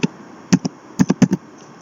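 Quick keystrokes on a computer keyboard while writing a database query, a handful of crisp close taps in small uneven bursts with quiet gaps between them.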